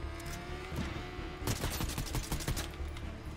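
Rifle fire in Fortnite comes as rapid, closely spaced shots that start sparse and then turn into a dense automatic burst in the second half, loud and close over a low background rumble.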